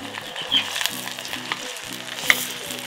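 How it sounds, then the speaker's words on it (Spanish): Chile salsa bubbling and sizzling in a pan while being cooked for ranch-style requesón taquitos; a steady, close frying hiss with small pops throughout, and no talking. "Como ya quedó la salsa, ya está hirviendo,"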